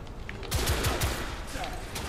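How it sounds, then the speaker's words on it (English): Rapid bursts of auto rifle fire ring out in The Order: 1886 video game, a quick string of four or five close, sharp shots followed by a lingering crackle and echo. "that was an auto rifle"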